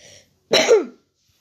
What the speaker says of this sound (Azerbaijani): Biraz öskürməyim maşallah, xəstələnmişəm.